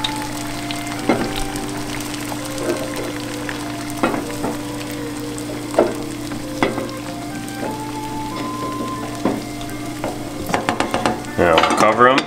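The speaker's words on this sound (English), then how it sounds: "So we're gonna throw our eggs in, nice and easy." Eggs lowered one by one into a pot of boiling water on a stovetop burner, with light clinks and taps over a steady bubbling hum, ending in a brief cluster of louder knocks.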